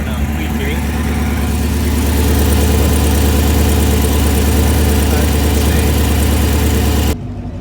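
A 2016 Chevrolet Camaro 2SS V8 runs at a steady idle just after starting, a deep continuous rumble that holds level for about seven seconds and then cuts away abruptly.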